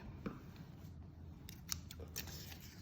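Scissors cut a small piece from a paper sewing pattern, making a few faint snips and light paper rustles over a quiet room hum.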